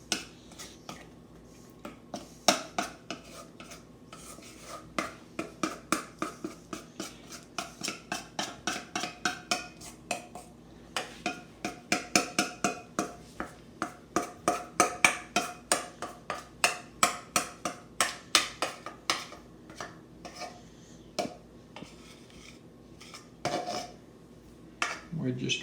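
A utensil spreading pancake sausage casserole mixture in a greased 9x13 casserole dish, repeated rhythmic scraping clinks and taps against the dish, fairly close and moderately quiet, with no talk.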